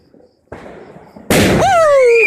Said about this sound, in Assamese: তাই বোলে দেৱালীত বোমা মাৰি ভাল পায়, এই বোমা আনি দিছো।